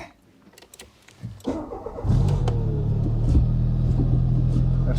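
A Citroen BX 4WD engine catches and settles into a steady, loud idle rumble after a couple of seconds of quiet mechanical clatter, continuing evenly close by.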